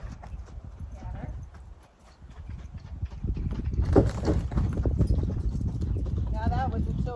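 A Tennessee Walking Horse canters toward a jump, its hooves drumming in a steady rhythmic clip-clop up close, getting louder midway, while the rider talks throughout.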